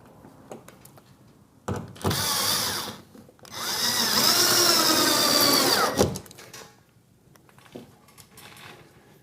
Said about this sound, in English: drill and plug the 2 holes with the screws supplied and the plug supplied, and then fit your bracket